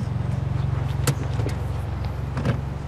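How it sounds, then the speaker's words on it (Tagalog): A car runs with a steady low idle while it is being parked. Faint clicks and thumps of doors or windows come through at moments. "Park ko lang tong kotse."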